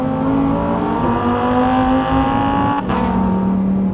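A loud, sustained Lamborghini Huracán Tecnica V10 engine note holds steady and high, then briefly drops and climbs again as the revs shift.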